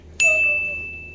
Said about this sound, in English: And also the notification bell.